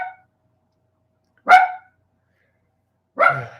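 A single dog barks three times, each a short sharp bark with long silent gaps between, close and clear with no talking.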